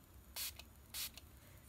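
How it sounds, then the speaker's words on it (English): Make It Last setting spray misted during a makeup session: two short, close hissing bursts of the pump spray a half-second apart, each with a faint trailing puff, over quiet room noise. "with some Make It Last setting spray to intensify."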